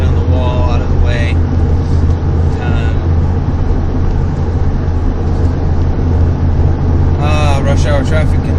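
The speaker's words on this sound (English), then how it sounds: "Rush hour traffic in Salem, crazy people." Rush hour road traffic in Salem, a loud, continuous roar of passing cars and heavier vehicles heard close up, with someone talking over it at the start and again near the end.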